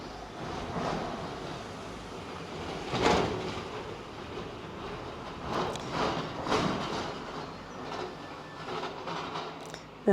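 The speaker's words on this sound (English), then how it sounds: "That is the sound of the morning Sicilian trucks going by on the road below me." Heavy trucks on a Sicilian road below pass in the morning as a steady, distant traffic rumble, swelling with louder passes and whooshes but never dropping away.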